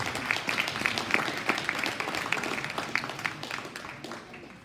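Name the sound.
audience applause at cattle show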